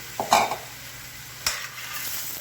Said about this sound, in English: now I'm going to saute and medium high